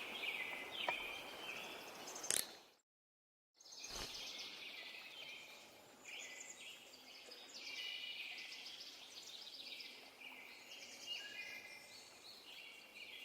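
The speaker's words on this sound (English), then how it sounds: "Bird sounds are so pleasant." Birds sing and chirp in a steady outdoor chorus, with bright calls layered throughout and a brief gap of near-silence early on.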